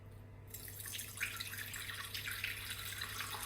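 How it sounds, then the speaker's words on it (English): Water pours from a kettle into a Thermomix TM7 in a thin, faint trickle with light splashing, close by and quiet over a low background hum. "Now watch this as I pour the water in."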